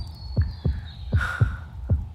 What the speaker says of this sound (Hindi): तेरी धड़कन इतनी तेज क्यों चल रही है?